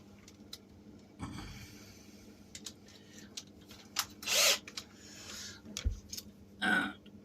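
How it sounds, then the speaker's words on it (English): A power drill boring small holes into fencing at a market rebuild, heard as two short whirring bursts of a few seconds each, separated by quiet handling clatter and knocks nearby. "we'll get the drill."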